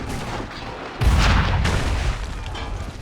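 A single heavy gunshot or cannon blast fired at redcoats lands about a second in, a sudden loud boom with a rumbling tail over quieter background ambience.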